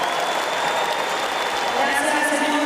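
Steady crowd applause for President Gustavo Petro at a coffee-sector gathering in Pitalito, Colombia, a dense, even wash of clapping with faint voices mixed underneath.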